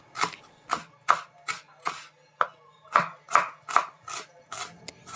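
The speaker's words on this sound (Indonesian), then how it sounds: "Ini bumbunya mau aku iris-iris aja, jadi simple aja, cuma ditumis ya." Knife slicing spices on a cutting board for a simple home-cooked dish, about a dozen crisp chopping taps in a steady rhythm, close up, with no voices.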